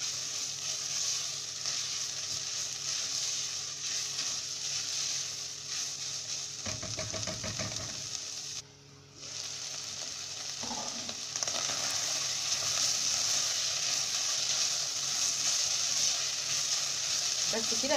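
Chopped leeks and colored peppers sizzle as they fry in a pan, a steady crackling hiss with a few bursts of stirring and tossing partway through, and a voice speaks over it.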